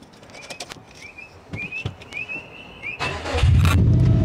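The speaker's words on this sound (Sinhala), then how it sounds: "අපි ආයෙ ස්ටාර්ට් කරලා පොඩ්ඩක් බලමු එන්ජින් එකේ සවුන්ඩ් එක" A fully tuned car engine fires up near the end, a loud low roar breaking in after a few seconds of quiet outdoor ambience with scattered bird chirps.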